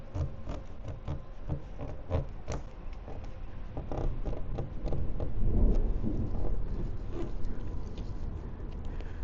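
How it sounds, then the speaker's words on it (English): Thunder rolls from an approaching thunderstorm, a long low rumble that swells in the middle, over steady pattering rain and scattered drops, moderately distant with no voices. "There's a thunderstorm approaching."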